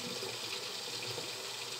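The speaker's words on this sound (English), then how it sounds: "I'm just going to pour that out." A steady, soft stream of cold water splashing and gushing as it is poured off sliced potatoes, continuous and fairly quiet, like liquid poured into a sink.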